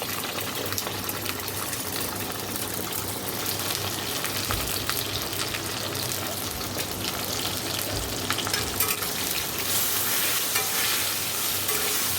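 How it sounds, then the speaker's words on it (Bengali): Eggplant fries in a pan with a loud, continuous crackling sizzle that stays dense and steady throughout, with spitting oil and occasional stirring scrapes, no voices. "তো চলো আগে বেগুনটা ভেজে নিই"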